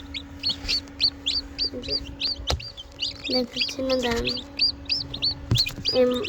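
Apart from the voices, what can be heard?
chickens and chicks clucking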